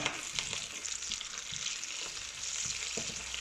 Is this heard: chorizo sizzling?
yes